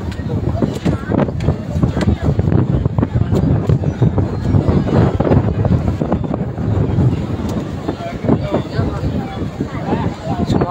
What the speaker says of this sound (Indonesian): Tak bisa nahan kencangnya angin.